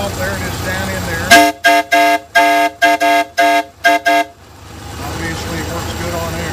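A three-truck Shay locomotive whistle, run on compressed air while the engine sits on a stand, blows eight short loud blasts in quick succession. Between the blasts there are brief gaps of near silence, and a steady background hiss returns afterward.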